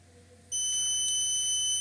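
A steady, shrill tone from an active buzzer in an Arduino PIR motion-sensor alarm switches on abruptly partway through and holds continuously until the end, loud and close.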